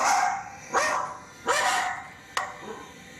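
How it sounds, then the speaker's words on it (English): Two dogs bark in short, sharp, excited bursts: three or four close, loud barks spaced about a second apart, with no talking. "they were both barking"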